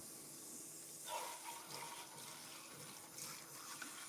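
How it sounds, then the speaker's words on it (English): Water from a tap runs steadily to rinse out a sushi rice mold in a home kitchen, a soft, even splash heard alone at low volume. "So I want to rinse it out,"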